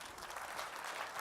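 Audience applause following a keynote on creativity in media: a faint, steady patter of many hands clapping, continuous with no talk over it.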